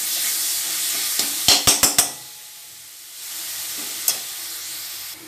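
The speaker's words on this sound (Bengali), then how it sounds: "এবার নারকেলটা দিয়ে গুড় দিয়ে নারকেলের পুর তৈরি করব।" Grated coconut and jaggery cook into a sweet filling in a pan over a very low gas flame, with a soft steady sizzle, a quick burst of four spoon taps against the pan and one more tap later.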